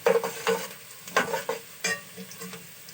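Onions frying and browning in a pan for matar pulao, with sizzling and several stirring scrapes at an irregular pace, close and moderately loud, with no voice.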